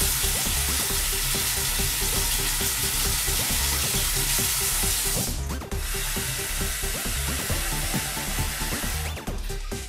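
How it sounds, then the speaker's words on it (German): Hot tap water gushes into a pot at a kitchen sink, a dense steady hiss and splash, loud and close, briefly changing tone near the middle, with no talking. "Damit das nicht so lange dauert, lasse ich jetzt schon mal heißes Wasser laufen."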